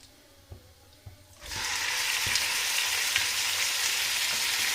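Chicken dropped into hot oil with whole pulao spices bursts into a loud, steady frying sizzle after a quiet start with a few clinks, and keeps hissing with no talking.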